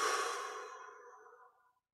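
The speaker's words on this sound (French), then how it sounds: "On relâche et on expire." Deep exhale during a guided breathing exercise, a single soft breathy release that starts fairly strong and fades out over about two seconds, close and alone.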